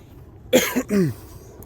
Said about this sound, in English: Excuse me, I had to cough a little bit.